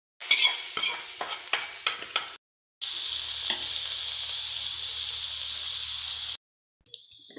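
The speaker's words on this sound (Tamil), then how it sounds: "சாமிக்கு படையல் போடுறதுக்காக அப்பளம் பொரிச்சு எடுத்துக்கலாம்" Papad (appalam) frying in hot oil for a Krithigai fasting-day offering meal: a crackling sizzle with rhythmic stirring bursts at first, then a steady loud hiss, a short pause, and sizzling that resumes briefly at the end.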